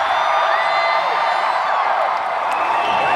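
A large, loud, raucous crowd roars and cheers at a Bernie Sanders rally in Grand Prairie, Texas, forming a dense, continuous wall of noise with scattered whoops throughout.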